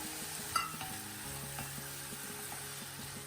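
Potatoes frying in a pan for sabudana khichdi, a soft continuous sizzle with light scraping stirs and an occasional utensil tap, close and quiet with no voices.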